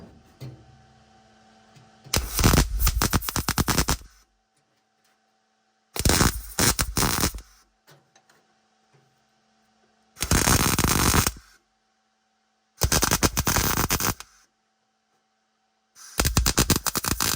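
Welding on the cowl of an F-body car: five loud, crackling bursts of one to two seconds each, separated by near-silent pauses.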